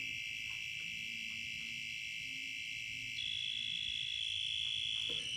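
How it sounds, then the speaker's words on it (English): A two-pole voltage tester pressed into a proving unit sounds a steady, shrill electronic tone that continues throughout and shifts slightly in pitch partway through. "So, two-pole tester into our proving unit."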